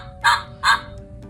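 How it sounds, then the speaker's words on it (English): Two loud goose honks in quick succession, each short and nasal, sounding close with a brief gap between them and no voices over them. "Goose make the sound honk"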